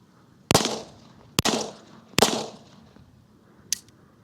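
Three loud unsuppressed gunshots with full metal jacket rounds crack out close by, roughly a second apart, each followed by a short decaying echo, and a fainter sharp click comes a moment later.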